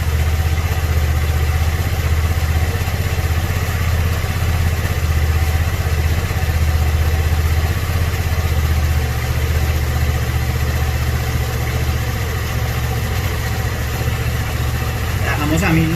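A motorcycle engine idles steadily at around 1600 to 1800 rpm during carburetor synchronization, a loud continuous mechanical thrum with a slight clatter that holds unbroken throughout.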